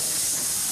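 A 6-horsepower Snapper spud blower is switched on and gives off a loud, steady, close hiss with broad noise that holds evenly from start to finish.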